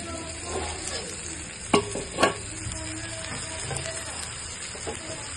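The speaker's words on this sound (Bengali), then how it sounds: "মশলাটা কষানো হতে থাকে। কাঁচামরিচ আর টমেটো দিয়ে দিচ্ছি," Spice paste fries with tomato and green chili, hissing steadily as a spoon scrapes and stirs the pan, with two louder clatters midway.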